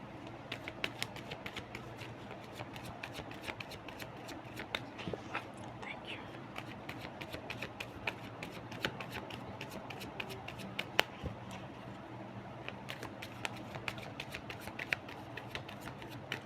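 Tarot cards are shuffled over and over, making a continuous patter of soft flicks and riffles with a faint murmuring voice underneath.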